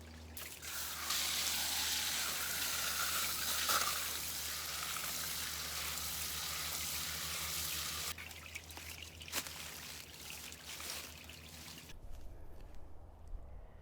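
Water trickles and splashes steadily onto freshly planted onion and chestnut seeds in garden soil, a close, continuous pour that cuts off abruptly, leaving scattered drips and light outdoor noise.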